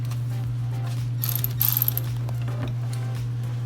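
A ratchet fitted with a 10 mm socket turns a bolt on a Toyota car, giving a quick run of close, crisp clicks over a steady low hum, with no talk.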